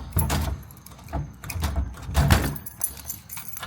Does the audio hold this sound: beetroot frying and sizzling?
no